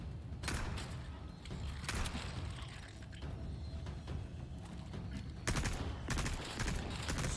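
Gunfire in Resident Evil 4 Remake, repeated sharp shots in clusters with mechanical clatter between them, close and steady throughout against a dense game background.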